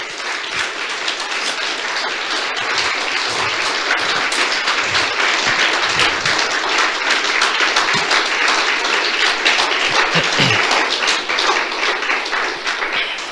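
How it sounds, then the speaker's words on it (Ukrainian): An audience in a hall gives long, sustained applause, a dense patter of many hands clapping that stays loud and even for over ten seconds, with a few brief voices underneath. "Я би хотів, щоб ми зараз ще раз подякували своїми оплесками 46-й бригаді"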